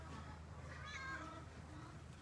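A farm cat meows at milking time, one drawn-out mew heard faintly over a steady low background hum.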